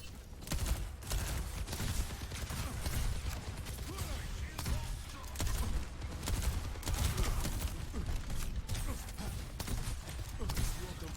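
Steady gunfire against a shield during an Overwatch match with Baptiste, rapid repeated shots over busy game noise for the whole stretch, with someone talking over it.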